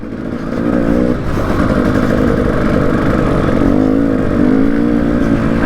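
A 300cc two-stroke enduro motorcycle is ridden on a charity trail scramble, its engine buzzing loud and close throughout with varying throttle and no talk.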